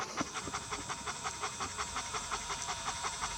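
Rapid, rhythmic dog panting close by, steady quick breaths repeating evenly throughout with no other sounds.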